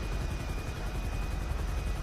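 Military helicopters in Grand Theft Auto give off a steady, dense rotor thrum, close and continuous, with no speech over it.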